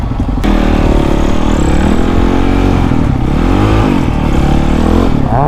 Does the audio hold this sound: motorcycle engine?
yes